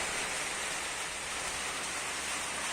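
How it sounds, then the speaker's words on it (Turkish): Steady rain falls outside a village house in the countryside, a dense, even hiss of drops on surfaces that stays constant throughout with no voices. "Beklenen yağmur geldi az önce güneş açmıştı."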